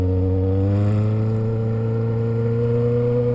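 A Honda Hornet motorcycle engine runs steadily, a loud, close, continuous drone with strong low harmonics that hold fairly even throughout, with no voices.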